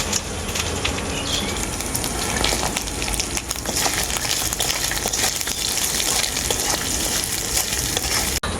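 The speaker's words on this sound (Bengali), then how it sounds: "এখন এর মধ্যে দিয়ে দেবো কাজু আর কিশমিশ" Cashews and raisins frying in oil for khichuri, a steady dense sizzle and crackle that runs close and loud throughout with no talking.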